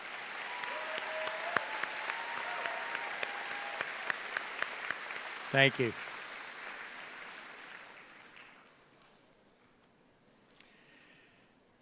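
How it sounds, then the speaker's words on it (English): An audience at a high school graduation claps for the graduating students in a steady wash that gradually fades to near silence. A voice briefly speaks partway through, and a few sharp louder claps stand out. "Please give them another round of applause"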